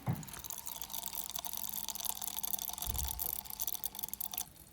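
Very carbonated Slovenian bottled water fizzes steadily in close-up, a continuous fine crackle of popping bubbles that carries on throughout, with a soft bump near the start and another partway through.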